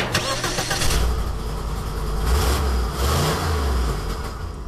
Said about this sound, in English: Is that the big block Lincoln, Ben?